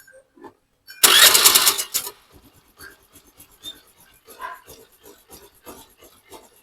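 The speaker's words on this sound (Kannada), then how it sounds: "ಗಾಡಿ ಚಾಲು ಮಾಡ್ಬೇಕು ಸ್ಟಾರ್ಟ್ करे" A repaired vehicle engine cranks in a loud, rough burst of about a second, then falls to a faint, uneven idle of soft irregular pulses.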